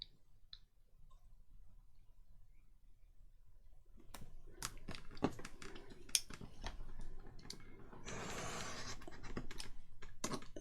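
Sharp, irregular snipping and paper rustling from scissors cutting green paper for a nature journal, starting after a quiet opening and continuing close up with a busier crunchy stretch near the end.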